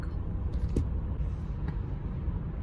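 Road traffic around a car, heard from inside the cabin as a steady, dull low rumble with faint passing swells and no speech.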